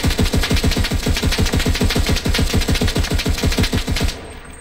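Rapid-fire assault weapon in a World War-themed shooter game, a fast, even stream of loud close shots for about four seconds, then the firing stops abruptly.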